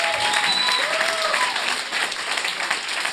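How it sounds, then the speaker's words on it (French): A studio audience breaks into steady applause for a guest, a dense, even wash of many hands clapping that holds at a constant level for a few seconds with no speech over it. "j'aimerais ça qu'on donne une bonne main d'applaudissement à Yann Terriot"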